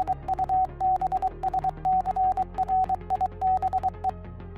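A Morse code radio signal Easter egg in Wii Sports Resort beeps as a steady single-pitch tone, keyed on and off in rapid dots and dashes over a faint humming backing.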